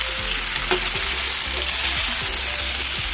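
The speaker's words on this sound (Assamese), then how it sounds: "এতিয়া এইখিনি ভালদৰে আমি লৰাম" Pumpkin pieces and pork are stirred in a hot pan over a steady, close sizzle, with a spatula scraping the pan in regular strokes about every half second.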